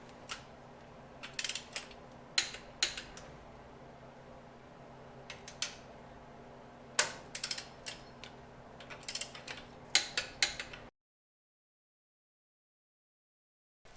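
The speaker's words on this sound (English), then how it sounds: "So the thing I forgot to do was torque my head studs" A torque wrench tightens the head studs on a traditional Ford hot rod engine, giving close, irregular ratchet clicks and mechanical clacks in small clusters before the sound cuts out.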